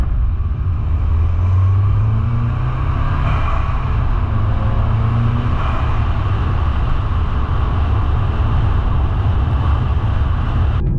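VW Golf GTI 7.5 with the EA888 engine running, a steady low rumble that holds evenly throughout with a slight rise and fall in pitch, close and fairly loud with no talk.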